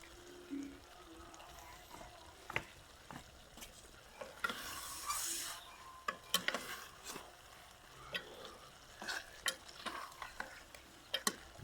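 Eggs fry in a kadai pan for a potato, pea, carrot and fenugreek dish, with a faint background sizzle broken by intermittent scraping and stirring clatter from a utensil.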